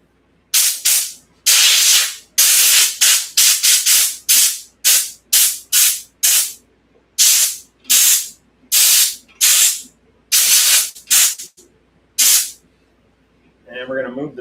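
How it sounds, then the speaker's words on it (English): Repeated short bursts of compressed air sprayed at the derailleur of a 1974 Schwinn bicycle, about twenty loud hissing blasts in irregular rhythm, close to the microphone, with brief gaps and a faint mechanical click near the end. "let's spray with some compressed air"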